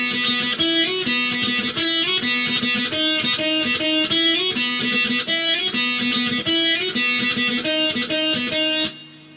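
Distorted pop-punk electric guitar plays the intro riff of Blink-182's "Pathetic" from the Dude Ranch album, a dense, driving run of chords with quick single-note moves that stops abruptly near the end, played alone.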